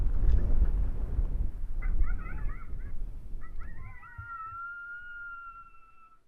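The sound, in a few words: coyote pup serenade call played on a caller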